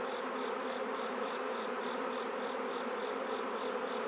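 Dense swarm of honey bees buzzing on a hive frame in an apiary, a steady close-up hum with a faint higher whine running through it, continuous and alone.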